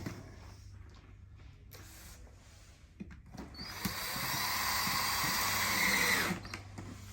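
A screw is driven with a power drill through a plastic Denver lateral bracket and into the wood behind it. The drill rises to a steady whirring run of a few seconds and then cuts off, with faint background noise before it starts.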